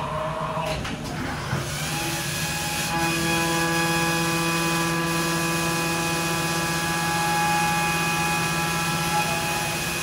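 A Haas DM2 CNC mill runs steadily with a face mill cutting, giving a sustained machine whine with several steady tones and a brief transient near the start, no talking.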